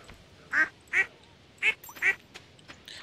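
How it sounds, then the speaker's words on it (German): Ducks on a farm in the video game Stardew Valley give four short, clear quacks in uneven pairs, close and distinct against a quiet background. "Hauptsache das Küken macht jetzt die gleichen Geräusche wie die großen Enten."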